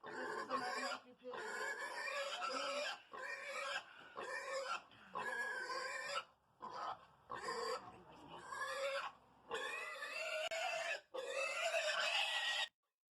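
A large, heavy pig screams on a farm, loud close squeals in long repeated bursts with brief gaps between them, with a person talking faintly underneath.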